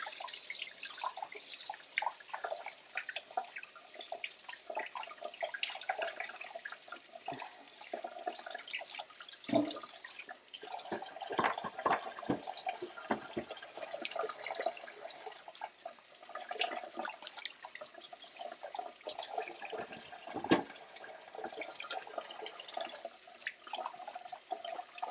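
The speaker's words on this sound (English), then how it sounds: "I'm going to go ahead and rinse this off a little bit so I can use it to scrape down" A baking utensil coated in butter and batter is rinsed under a running kitchen tap, with steady splashing water, drips and occasional clatters against the sink running continuously and no talking.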